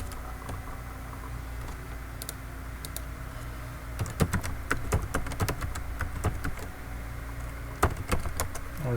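Password keystrokes clatter on a computer keyboard in irregular bursts of sharp clicks, sparse at first and then faster and denser, over a low steady background hum.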